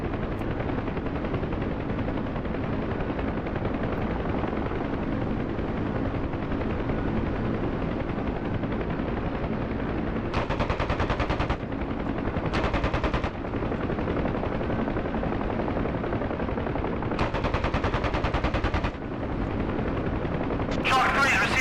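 A Huey helicopter's rotor thumps continuously in a combat video game while bursts of machine-gun fire break through several times, with radio chatter voiced in places.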